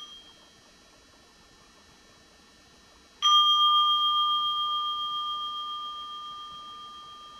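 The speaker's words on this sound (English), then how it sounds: "would you like to make a stopping bell?" A mindfulness stopping bell is struck once after a few seconds of near silence, giving a clear metallic ring that lingers and slowly fades.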